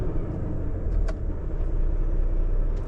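An empty Renault T truck pulls away with a loud, steady low engine rumble heard from inside the cab, with a faint click partway through and no talking.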